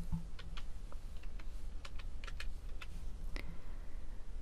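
Fingers type a program name on a computer keyboard in close-up, a quick irregular run of light key clicks with small gaps between presses and a low room hum beneath; no talk.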